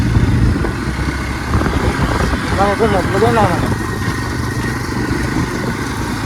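A new Xplus motorcycle runs with a low, steady engine rumble, mostly masked by someone talking close by throughout.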